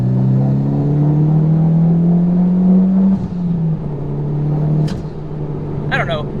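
A 2011 Mitsubishi Evo X GSR engine runs with a steady low drone that rises slightly before easing off, heard from inside the car over a background hum.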